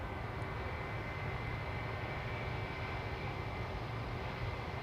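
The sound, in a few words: Singapore Airlines A350 airliner departing at Schiphol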